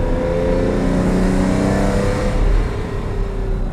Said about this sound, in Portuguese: aquele ronco de indução que é muito característico desses motores 12 flat ou V12